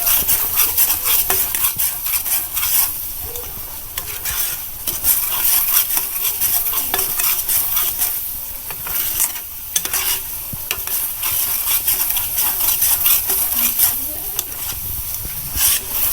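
Food frying in a pan hisses and sizzles loudly without a break while a utensil scrapes and stirs it in constant motion, heard up close.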